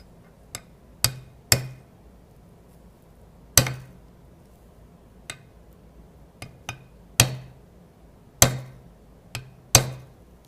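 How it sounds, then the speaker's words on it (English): Sharp metallic hammer strikes on a metal roller bearing ring ring out one at a time at irregular intervals, each a bright clink with a short decay over quiet background. "And then you just hammer it."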